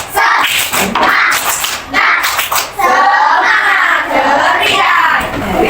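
A classroom of children doing a rhythmic spirited clap, loud close bursts of hands in patterned groups mixed with children's voices chanting along.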